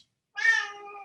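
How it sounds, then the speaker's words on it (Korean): A pet cat lets out a single clear, drawn-out meow close by in a quiet room, with no talking. "제가 고양이를 키워가지고"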